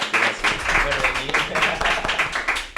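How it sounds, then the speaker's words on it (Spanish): A small live audience at a business podcast recording gives a brief round of clapping, with individual claps audible and a voice talking over it. "pido un poco un aplauso"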